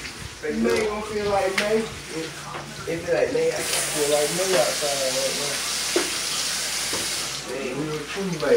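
Thin-sliced onions fry in hot grease in a pan as they begin to brown for homemade gravy, a steady sizzle and hiss running beneath someone talking throughout.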